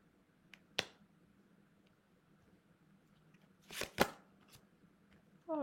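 A tarot deck being cut and shuffled by hand: soft isolated riffles and card snaps, one near the start and a louder double burst later, faint and close in a quiet room.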